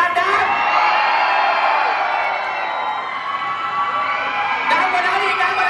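At a BNK48 event at Central Plaza, a mall crowd of fans screams and cheers in a sustained high-pitched roar that fills the space and dips slightly midway.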